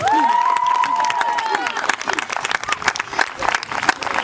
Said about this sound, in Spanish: un forte aplauso para Antía, veña